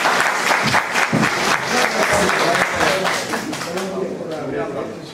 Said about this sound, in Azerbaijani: Alqışlar gəlsin.